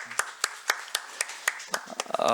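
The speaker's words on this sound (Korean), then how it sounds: "우리 격려 박수하겠습니다." A church congregation at a Sunday morning service claps in encouragement for the deacons: about ten sharp, evenly spaced claps in a steady beat that quickens near the end, where a voice begins.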